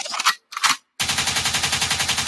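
Gunshot sound effect on a radio show: two short sharp bursts, then a loud sustained rapid-fire volley of repeated shots in an even, fast rhythm, close and dense.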